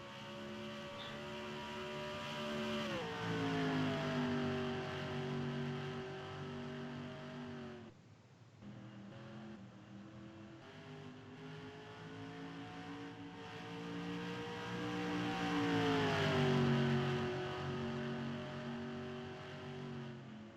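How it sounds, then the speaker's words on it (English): Several race cars pull away from pit road in a FARCA racing series event, their engines droning and shifting pitch together as they accelerate, a loud continuous blend of revving motors with a brief dip midway. "Multiple cars making their way off pit road."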